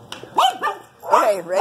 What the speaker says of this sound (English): A little dog, and that's the dog.